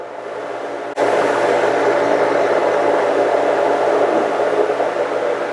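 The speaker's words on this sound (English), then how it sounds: "We make salt brine very quickly." A 750 brine maker kicks on abruptly and runs with a loud, steady broadband rush of mixing salt brine, close and continuous.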